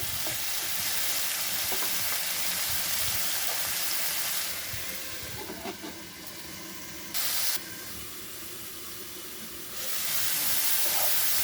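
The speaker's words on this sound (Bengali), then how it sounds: "ভালো করে নেড়ে ছেড়ে আবার ঢেকে দেবো। ফ্লেমটা হাই আছে আমার" Ridge gourd being stirred and fried in a pan on a high flame for a ridge gourd, potato and poppy seed dish, giving a loud, dense, continuous sizzle with scraping stirs and a short hissing spurt.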